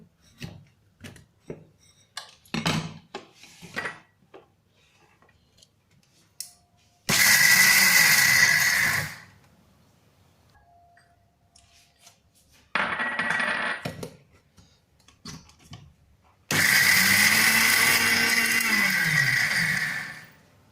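A kitchen mixer grinder blitzes roasted chickpeas with almonds and cashews in two loud bursts of about two and three and a half seconds each, with a shorter pulse between them and scattered clinks and taps around them.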